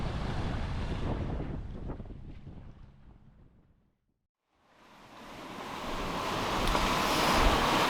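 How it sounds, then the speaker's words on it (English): Gusty wind buffets the microphone while waves and surf wash around a sailboat at sea off Thailand, loud and roaring, fading briefly to near silence midway before surging back even stronger. "Got a blustery old little sail going on here."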